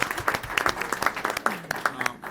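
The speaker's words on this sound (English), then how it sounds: "You can give him a round of applause on that one." Applause at a Sacramento Regional Transit District board meeting: a room of people clapping in irregular bursts, moderately close, with voices murmuring and a brief talking voice mixed in.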